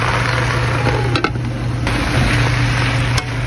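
A pan of fish simmering with tomatoes and onion gets stirred, a soft steady sizzle with a few brief scrapes and clinks of the utensil against the pan.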